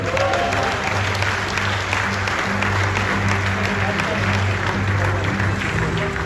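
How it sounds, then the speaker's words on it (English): Loud, sustained applause from a large crowd, dense steady clapping with cheering mixed in throughout. "A lekker round of applause for all of them."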